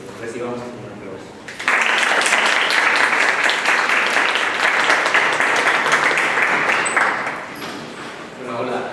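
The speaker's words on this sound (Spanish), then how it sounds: "les pido que los recibamos con un aplauso" An audience bursts into applause welcoming speakers at a talk on data mining for fraud detection, a loud dense round of clapping that runs for about five seconds before tapering off, with talk heard faintly before and after.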